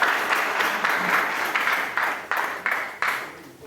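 A group claps in a series of short bursts, a few seconds of sharp rhythmic clapping that repeatedly swells and fades, moderately close.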